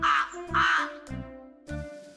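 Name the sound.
crow cawing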